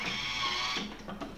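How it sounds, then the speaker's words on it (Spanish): A Thermomix chopping vegetables for porrusalda at speed 5, a steady whirring motor blur for under a second that then cuts off into a few soft mechanical clicks. "a nuestra Thermomix y vamos a trocearlo durante 3-4 segundos a velocidad 5"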